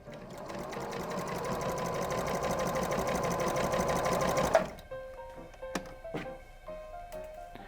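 A sewing machine stitches apron fabric in a close, steady rattling run for about four and a half seconds, then stops and is followed by a few light clicks and taps.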